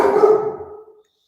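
A single dog barks in a short burst indoors, loud and close, then trails off into silence with nobody talking over it.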